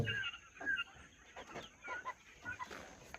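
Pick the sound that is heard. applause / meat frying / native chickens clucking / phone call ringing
native chickens clucking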